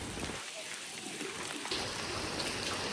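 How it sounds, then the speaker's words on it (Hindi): Heavy rain falling outdoors makes a steady, dense hiss that continues without a break, faint and distant in tone, with a little trickling water texture throughout. "चलो बारिश बहुत तेज हो गई है।"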